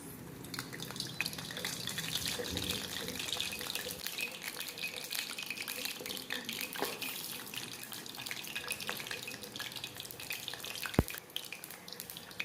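Methi vada batter frying in hot oil, a constant close hiss and bubbling sizzle with scattered small pops and crackles over the whole stretch, no talk.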